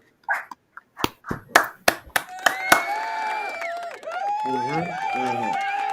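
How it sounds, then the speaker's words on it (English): A few people in a casual gathering clap in a short burst of about eight sharp, separate claps, celebrating a 49ers win over the Commanders that clinched the number one seed; voices then talk and laugh as the clapping stops. "just let's just get a round of applause for the locking up that number one seed."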